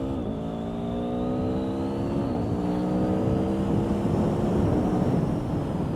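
Engine of a 2022 Aprilia Tuono V4 RR motorcycle under way, a loud steady V4 drone with rising pitch under heavy wind rush, heard from the rider's position with the visor open.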